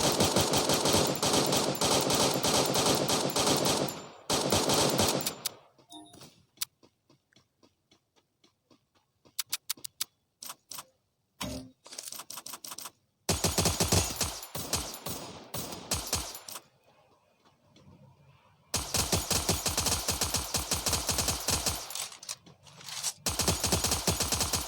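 Rapid automatic gunfire from Free Fire guns rattles in loud dense bursts, broken by quieter gaps with scattered single shots and ticking, then resumes in long sustained volleys.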